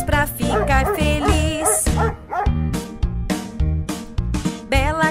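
Two dogs in a children's song bark and yip in quick bursts, close and loud, over a musical backing.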